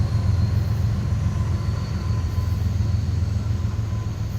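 A train rolls past at night in Stockbridge, Georgia, a steady low rumble and hum holding even for a few seconds with faint high whine above, no voices.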